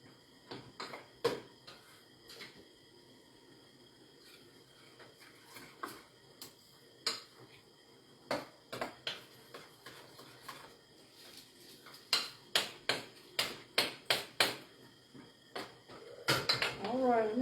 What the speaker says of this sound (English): Let's see how we're doing stirring this up.